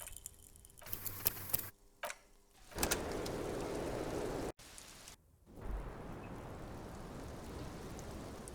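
Steady rain ambience from the game Disco Elysium, a dense, even patter that cuts in and out with brief breaks before settling into a continuous wash.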